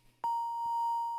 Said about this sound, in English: that's my alarm telling me we are